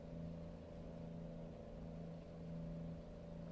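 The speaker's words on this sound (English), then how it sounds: "As you can tell by the bullhorns and the very loud truck." A very loud truck on a street drones steadily with a low, humming engine tone that stays constant throughout without pause.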